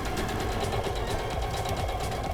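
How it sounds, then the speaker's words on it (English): A sewing machine runs steadily, stitching tote bag straps for a Halloween project, its rapid, even mechanical whir close and loud with no talk. "So we're gonna stitch these ones first."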